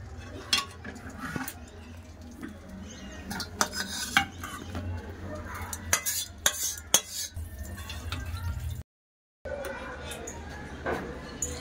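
Utensils scrape and clink against a pan as Bengali fish curry in coriander leaf gravy is poured out, brief metallic knocks over a low background with a short silent gap near the end.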